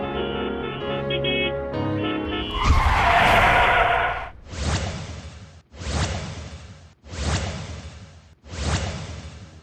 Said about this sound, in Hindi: अचानक गाड़ियों के ब्रेक लगाने की आवाज